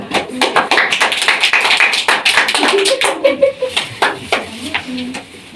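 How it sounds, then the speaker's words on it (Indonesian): Students in a classroom clap for classmates who have just presented, a steady burst of close, crisp hand claps with voices chattering underneath. "bisa dikumpulkan dan berikan aplaus untuk mereka"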